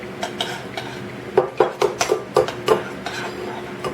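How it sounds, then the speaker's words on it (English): A spoon stirs cake batter in a bowl, making a series of clear clinks and scrapes against the bowl in a quick uneven rhythm, close and fairly loud. "Get your spoon and start stirring."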